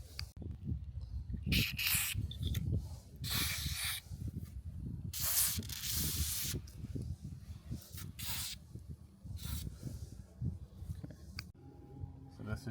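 Grease sprays in short hissing bursts onto the handlebar height lever of a BCS 853 walk-behind tractor, close up, with someone talking over and between the sprays.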